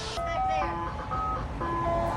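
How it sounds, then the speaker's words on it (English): An ice cream truck plays its jingle as it passes nearby on a street, a loud, clear melody of sustained chiming notes over a steady low rumble of traffic. "we got the ice cream man here, as you guys can see"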